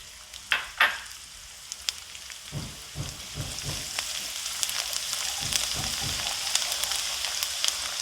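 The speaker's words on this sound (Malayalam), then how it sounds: "നമുക്ക് അരിഞ്ഞു വെച്ചിരിക്കുന്ന വെളുത്തുള്ളി ആദ്യം ഇതിലേക്ക് ഇട്ട് കൊടുക്കാം." Chopped garlic dropped into hot oil in a pan for a Kerala-style spicy pasta, opening with a few clunks and stirring scrapes before a bright, steady frying hiss builds and holds close up.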